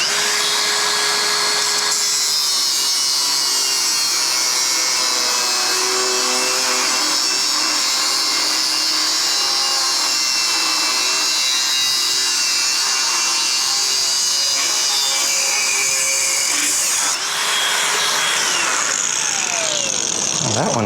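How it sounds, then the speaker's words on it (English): An angle grinder cuts off a pipe mount bracket on an XLCH chopper motorcycle, a loud continuous high-pitched whine held close for the full length, its pitch shifting slightly near the end. "So let's get that grinder and cut this thing off."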